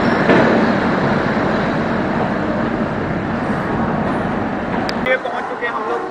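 The 12042 Shatabdi Express pulls into Howrah Junction, a steady, loud broadband rumble of the moving train lasting throughout, easing slightly near the end as a few faint squeals and clanks appear, with a voice talking over it.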